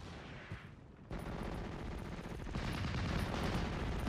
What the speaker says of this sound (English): SBW-204 now under fire from a 50 cal